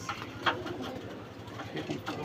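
Homing pigeons in a loft give soft, low coos and rustles at moderate distance, mixed with faint background sounds.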